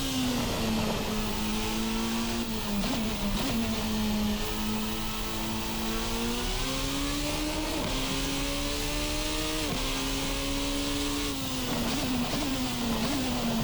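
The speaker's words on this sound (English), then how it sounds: "I kind of understand what this engine is doing." A Formula-style racing simulator car engine revs and shifts repeatedly, its pitch climbing and dropping over and over, loud and continuous without speech.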